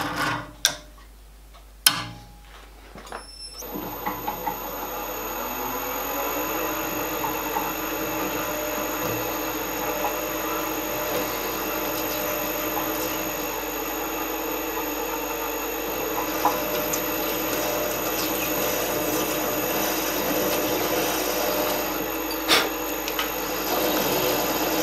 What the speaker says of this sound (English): we'll just drill some of the holes that would be opened out later first, just to make sure we're okay with this drill